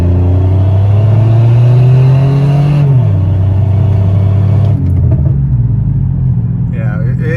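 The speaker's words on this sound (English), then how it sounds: "But yeah, just kind of gonna punch it." A supercharged Pontiac's engine roars under hard acceleration, a loud sustained drone that rises, dips with a downshift, and climbs again, heard from inside the car.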